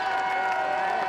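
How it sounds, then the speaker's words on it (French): A crowd at a march applauds a volunteer coordinator with a steady, dense wash of clapping and cheering that holds evenly throughout the brief moment. "Vous pouvez l'applaudir bien fort."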